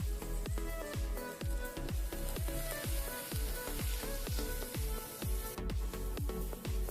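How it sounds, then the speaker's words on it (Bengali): Sweet corn with salt and ground black pepper frying in a pan, giving a steady sizzle punctuated by sharp rhythmic taps roughly twice a second, close and fairly soft, with no talking. "এবার এই সুইট কর্নগুলোকেও আমি হালকা করে একটু ভেজে নেব। তার জন্য এই প্যানের মধ্যে দিয়ে দিলাম।"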